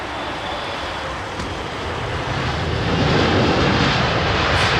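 A jet landing at London Heathrow Airport in wintry weather, a broad steady engine roar that swells gradually louder toward the end, heard alone with no voices.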